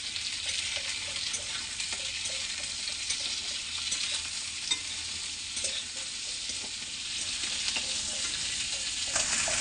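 Onion and green chili fry in oil in a pan after potatoes are taken out, giving a continuous close sizzle with scattered stirring taps and no talking.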